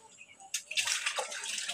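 Water runs from a tap while dishes are washed, a steady hissing splash that starts abruptly and continues close by without talk.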